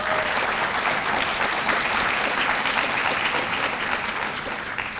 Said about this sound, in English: let's give a round of applause for Natalie Glass,